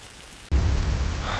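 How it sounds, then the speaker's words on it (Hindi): Heavy rain bursts in suddenly after a quiet, faint drizzle, becoming a loud, dense, steady downpour with a deep rumble underneath, heard outdoors in a 1990s Pakistani courtyard setting. "फिर अचानक तेज बारिश।"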